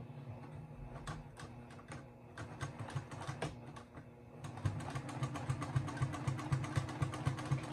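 A sewing machine stitches close to the edge of a fabric corner bookmark to close its opening. Its rapid, steady mechanical clatter grows louder partway through and continues to the end, with no talk.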